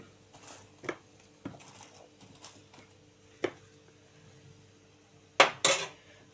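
A spoon clinks and scrapes against a pan while cumin is stirred into an ivy gourd and tomato curry, giving a few scattered taps followed by two louder metallic scrapes near the end, close and fairly quiet.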